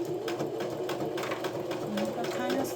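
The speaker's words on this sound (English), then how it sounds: "I'm kind of slow with this sewing" Home sewing machine stitching a Y2K-style heart purse, a steady close mechanical whir running throughout the short stretch, with faint background sound mixed under it.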